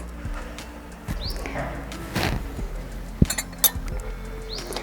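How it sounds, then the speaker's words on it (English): Birds call and chirp faintly outdoors in intermittent short notes, mixed with light clinks and handling sounds nearby. "actually I have a lot of birds chirping."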